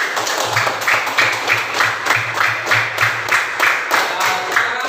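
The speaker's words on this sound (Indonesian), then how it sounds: "Kita beri tepuk tangan dulu untuk semua kelompok." A classroom of students applauds all the discussion groups together, with brisk clapping that swells in a steady, rhythmic pulse of near-synchronized claps for about five seconds and no talking over it.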